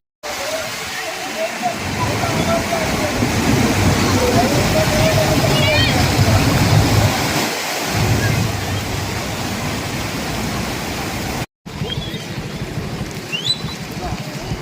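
The Saraswati river at Jambur, swollen after heavy rain, rushes loudly in a broad steady roar of churning water, with someone talking intermittently over it and a brief cut partway through.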